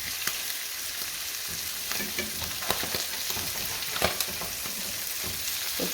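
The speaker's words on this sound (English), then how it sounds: "I'm going to allow this fish to cook on the other side for a few minutes" Butterfish fries in a pan with peppers and onions, a constant close sizzle broken by occasional clicks and scrapes of a utensil moving the food.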